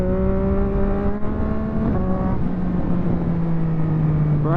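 A 2023 Yamaha MT-09 SP motorcycle with a full Akrapovic race exhaust pulls hard with a steady, loud engine note that rises through the gears, briefly dipping between shifts before climbing again.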